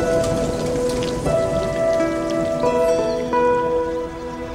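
Pouring rain falls at the ancient site of Paestum in southern Italy, a loud, steady downpour with sustained musical tones layered over it that fade near the end.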